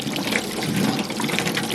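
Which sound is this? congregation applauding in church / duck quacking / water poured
water poured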